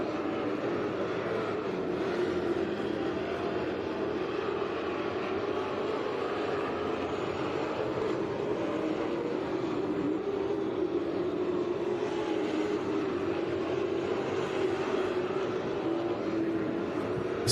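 Grand National cars circling 141 Speedway in a heat race, heard as a continuous, steady engine roar from a distance that never lets up.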